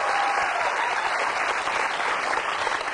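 A studio audience at a talk show breaks into dense, sustained applause, loud and even throughout with no break or speech on top.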